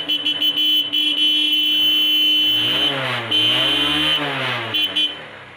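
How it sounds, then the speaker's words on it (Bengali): A Hero Hunk motorcycle with about 10,477 km on it starts up, its engine rising and settling into a steady idle close by, accompanied by a high electronic beeping tone throughout. "তাই আসুন গাড়িটা স্টার্ট করে দেখানোর দরকার।"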